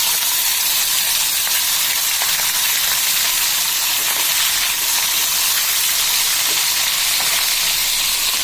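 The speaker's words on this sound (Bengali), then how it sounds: "এগুলো ভালোভাবে ভাজা হয়ে যাক, তারপর অপর পাশ উল্টিয়ে দিব।" Fish heads frying in oil in a hot cast iron wok, a loud, steady, close sizzle with a continuous hiss and fine spatter, no voices over it.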